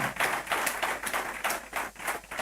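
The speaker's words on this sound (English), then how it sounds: "give my panelists a warm round of applause" Applause from an audience at a civil service week policy dialogue, irregular bursts of hand claps rising and falling over a couple of seconds in a hall.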